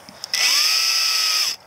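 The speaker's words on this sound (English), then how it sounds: "I chose a 5/32 drill bit, and I'm going to go ahead and drill a hole now." A power drill with a 5/32 drill bit bores a hole in a kayak during a sail install, giving one steady high whine of a bit more than a second that starts and stops abruptly.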